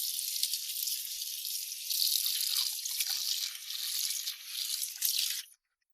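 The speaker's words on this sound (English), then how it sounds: "We just wash it off right there in the sink" Water runs from a sink tap over a dusty fired ceramic bowl being washed, a steady hissing splash lasting about five seconds before cutting off abruptly.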